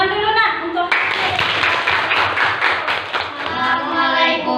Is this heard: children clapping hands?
yes